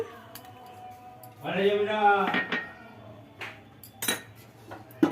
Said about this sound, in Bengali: একটু নাড়িয়ে নিই চারিদিকে